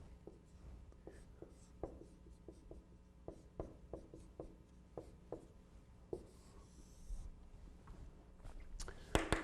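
Marker or chalk strokes on a lecture board during a least-squares fitting lecture: a steady run of short, distinct scratchy taps at an uneven writing rhythm, fairly close, ending in a louder scrape.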